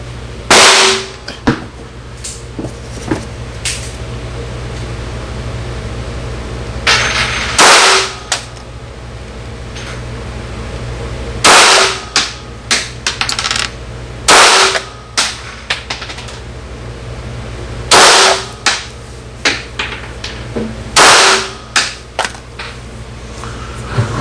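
Glock 17 pistol shots at an outdoor gun range, sharp loud reports fired in irregular bursts of singles and quick pairs, with brass clinking and range noise between shots.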